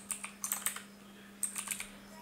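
Keystrokes on a computer keyboard while text is entered for a live scoreboard setup in OBS: two quick bursts of close, crisp clicking separated by a short pause, with no talking.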